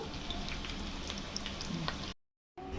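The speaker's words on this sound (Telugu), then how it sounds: "కట్ చేసిన పచ్చిమిర్చి బంద్ చేద్దామండి. వీటిని ఎక్కువగా వేయించుకోవాల్సిన అవసరం లేదు." Fenugreek seeds and cut green chillies fry in hot oil with a steady, close sizzle that cuts out briefly before resuming.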